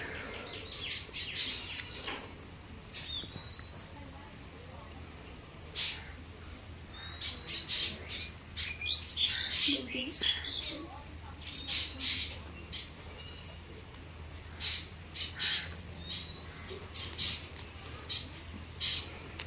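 Chickens squawking and clucking outdoors in the rain, scattered sharp calls over a soft steady patter, fairly distant and moderately quiet.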